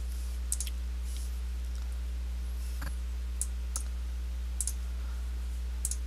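A few sharp, isolated mouse clicks spaced irregularly across a quiet stretch, heard over a steady low electrical hum while someone works on a computer network setup.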